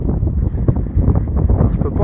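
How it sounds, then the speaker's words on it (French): Strong wind buffets the microphone at a construction site for a ride at Disneyland Paris, a steady low rumbling roar that runs through the whole moment with no clear pauses. "il y a beaucoup de vent"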